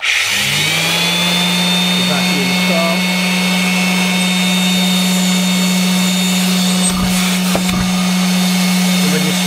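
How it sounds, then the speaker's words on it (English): A sander starts up through a front socket on a shop vacuum set to auto, and the vac's motor switches on automatically with it. The steady loud drone of the extractor and the tool's whine run continuously, and near the end there are a couple of brief knocks. "when you fire up the sander,"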